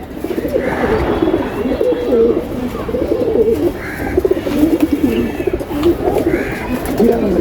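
Pigeons cooing close by, repeated soft throaty coos rising and falling over a low background murmur.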